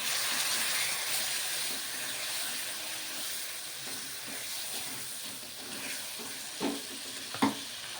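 Water poured into masala frying in a pan for a goat liver curry, giving a steady close hiss and sizzle with a couple of brief louder bursts near the end.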